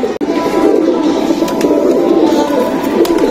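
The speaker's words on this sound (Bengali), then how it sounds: "এগুলো সব ধাড়ি পায়রা।" Adult pigeons, including Golden Blue Madrashi birds, coo inside a pigeon loft. Close, continuous cooing and soft bird calls form a loud, steady murmur with a brief knock near the start.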